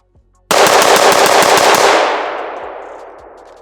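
A budget ATI Omni rifle fires a fast, loud burst of rapid shots from close range, each crack blending into the next before the echo trails off and fades.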